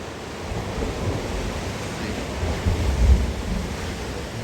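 Ocean surf on the Oregon coast, a broad, continuous rumbling wash of waves with a deeper surge building toward the end, heard from close by with no talking.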